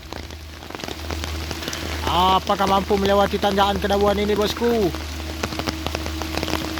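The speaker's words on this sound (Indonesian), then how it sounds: "Saat ini hujan deras di tanjakan Kedabuhan, bosku." Heavy rain pours steadily on the Kedabuhan mountain climb as a truck tackles the slope, a dense, continuous hiss of drops lasting throughout while someone talks over it.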